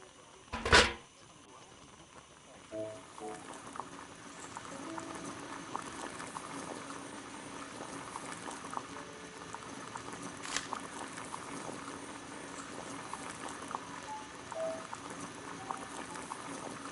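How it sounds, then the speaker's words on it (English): A kettle heats on a gas burner in a Sherlock Holmes game, giving a faint, steady seething bubble after a sharp click at the start. A few small clinks sound across the low, continuous boil. "Boil water in kettle"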